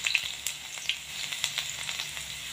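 Crushed garlic cloves sizzling in hot oil with popped mustard and cumin seeds, a steady close frying crackle with scattered sharp pops throughout.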